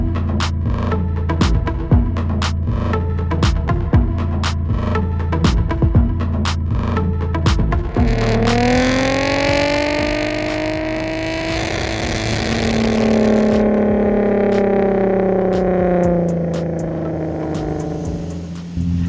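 Engine-swapped VW Golf R32 revving hard, a steady throbbing idle broken by sharp pops and bangs, then rising and falling high revs held for several seconds, loud and close with no talk.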